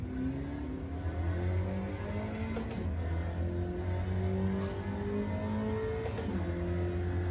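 A Spec Racer Ford engine in a racing simulator at Road Atlanta pulls away in gear, its tone rising steadily through the revs in a smooth, continuous drone with a few faint clicks over it.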